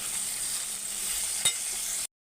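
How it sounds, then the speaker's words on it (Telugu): Salt and curry leaves frying in a pan for egg biryani, giving a steady, bright hiss with one quick tap partway through before it cuts off abruptly. "సో ఇవన్నీ వేసుకొని మనం ఫ్రై చేసుకోవాలండి"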